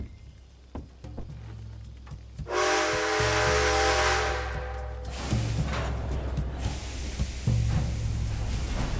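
A steam locomotive whistle blows loud and sustained aboard a train in the Western game Red Dead Redemption 2, a long hissing tonal blast with rumbling engine noise and steam continuing after it.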